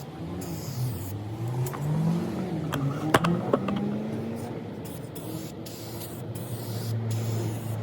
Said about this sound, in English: Quite good spray paint this.